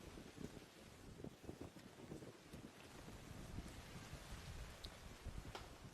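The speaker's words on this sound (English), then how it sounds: "You can see the rain coming down already here at Anniversary Park." Heavy rain falls on an outdoor football ground, a dense, constant hiss and patter with gusty wind buffeting the microphone and no voices.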